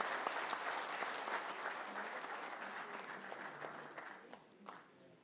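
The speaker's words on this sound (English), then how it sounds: "We must give him one more round of applause." At a televised Premier League awards show, a crowd applauds in a full burst that slowly thins and tapers off toward the end, with a faint voice mixed in.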